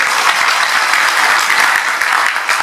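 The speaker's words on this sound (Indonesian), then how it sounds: "Tepuk tangan dulu, teman-teman." A seminar audience in Pekanbaru, Riau, breaks into loud, sustained applause, many hands clapping together in a dense, even burst that carries through the whole short stretch.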